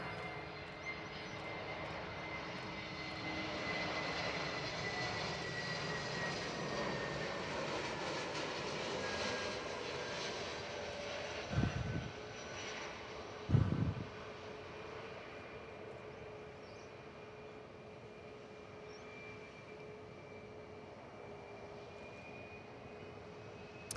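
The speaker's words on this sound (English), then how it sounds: "Jetstar from Melbourne" A Jetstar Airbus A321 airliner arriving from Melbourne rumbles steadily at an airport, a distant, broad jet engine roar that holds for a long stretch with a whine on top, faint and even.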